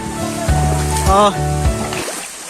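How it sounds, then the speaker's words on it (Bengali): A steady, broadband roar of the large Hamham waterfall nearby fills the background, running continuously beneath a voice talking in the foreground. "এখান থেকে ঝর্ণার প্রবল শব্দ শোনা যাচ্ছে।"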